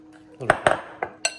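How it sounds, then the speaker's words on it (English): A metal pan is set onto a stovetop while cooking pasta carbonara, giving several close, sharp clanks and clinks spaced unevenly over a second or so. "Set up this pan."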